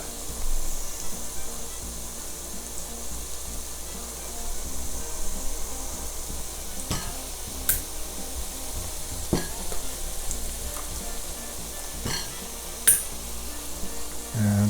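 A pan of Filipino chicken bopis sizzles and fries steadily as fish sauce is added, with a few brief clinks and stirring scrapes over a constant hiss.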